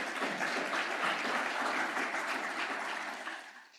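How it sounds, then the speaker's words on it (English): An audience at the opening ceremony of a regional mosquito-borne diseases workshop claps in a steady, dense round of applause that holds evenly for several seconds and then tapers off. "give a round of applause as well."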